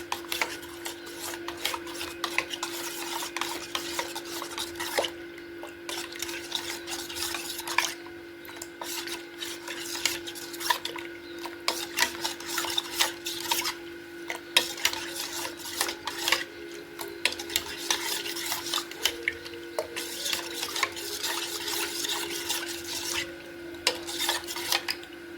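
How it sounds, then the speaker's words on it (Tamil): Ragi flour being stirred into water in a pot for a baby's porridge, with steady close scraping and clinking of a utensil against the vessel for the whole stretch and no talking. "இப்போ நல்லா கட்டி இல்லாமல் கலந்து விட்டுருணும்."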